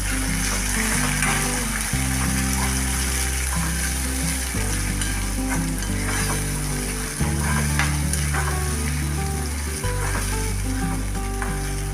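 Onions and tomatoes sizzling in hot oil in a pan for a Gujarati moong dal curry, a loud steady fry with scraping stirring strokes, alone without talk.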